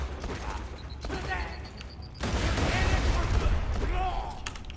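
An explosion in the video game Borderlands 2 bursts loud and broad midway, with crackling gunfire before it and a voice talking over the noise.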